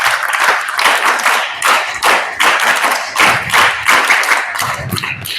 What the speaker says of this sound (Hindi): और जोरदार ताली बजाइए आचार्य योगेंद्र जी और उनकी पूरी टीम के लिए।